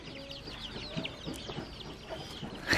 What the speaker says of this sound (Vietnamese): Con gà này, con chim đấy các bạn.